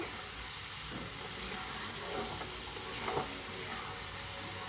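Chicken with black pepper stirred in a frying pan, a steady low sizzle with soft scraping and a couple of slightly louder stirring knocks, close and continuous with no voices.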